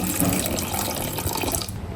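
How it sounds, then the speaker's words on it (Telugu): Water pours steadily into a container, a close, continuous splashing gush that tapers slightly at the end. "ఇప్పుడు దీంట్లో వాటర్ వేసుకున్నాం"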